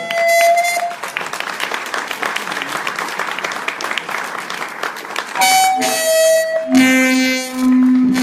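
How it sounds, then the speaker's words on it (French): A crowd at a French public campaign meeting applauds a parliamentary candidate for the Haute-Garonne constituency with loud, sustained clapping, framed by bright tonal music bursts at the start and end. "je vais vous demander d'applaudir bien fort"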